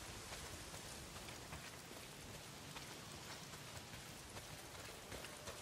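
Steady heavy rain pours down in the video game Days Gone, a dense, constant hiss of drops on surfaces that fills the scene without letup.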